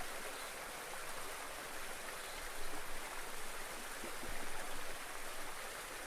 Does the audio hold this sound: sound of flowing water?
yes